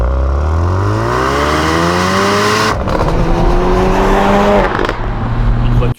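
A third-generation Ford Focus RS engine roars loud and close, revving up through rising gear pulls with a brief lift and shift midway, then another climb before cutting off abruptly.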